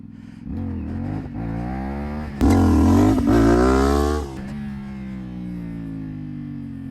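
A CFMOTO 450SS motorcycle engine during wheelie practice revs up in a loud surge, eases off, and settles back to a steady idle-like drone, with throttle chopped and reapplied in quick succession.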